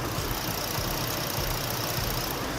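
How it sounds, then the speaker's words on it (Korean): A Ford Explorer gasoline SUV engine idles with the hood open, a steady, smooth hum recorded up close with no talking. "엔진 소음을 담기 위해 본네트를 한번 열어봤는데요. 영상으로 엔진 소음 한번 담아보도록 하겠습니다."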